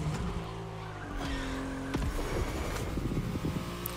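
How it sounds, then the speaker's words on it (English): Car drifting in The Crew Motorfest racing game, a steady engine drone with tire squeal and skidding running through the whole stretch, loud and continuous with no talk. "he also does a big drift, leaving me in his smoke"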